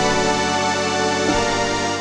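A Crumar string ensemble patch voicing violins and cellos plays in the Unify software host, giving a dense, sustained, buzzy string chord that holds steady and shifts slightly partway through, loud and without speech.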